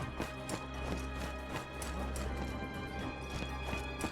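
Lü Bu's horse gallops in Wo Long: Fallen Dynasty, a fast, steady clip-clop of hooves pounding rhythmically and loudly over game ambience throughout.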